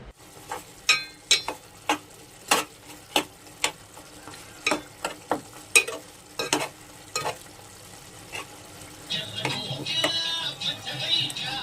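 Tomato chicken curry stirred in a pan, a spoon scraping in a steady run of sharp clacks for several seconds before giving way to a soft, continuous sizzle as the curry cooks. No one speaks.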